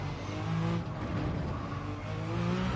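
A hypercar engine heard from the cockpit view in Gran Turismo 7, a continuous loud roar with shifting pitch as it revs, alone without voices.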